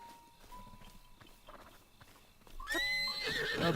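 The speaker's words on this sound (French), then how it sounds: "J'essaie de vous montrer comment on chope un cheval." A horse in the video game The Legend of Zelda: Breath of the Wild whinnies loudly and shrilly near the end, after a run of soft hoof clops and rustling.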